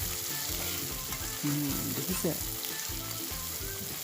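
Chicken pieces fry in a pan for a banana-flower curry, giving a loud continuous sizzle and crackle up close, with a brief spoken word and a few clinks over it.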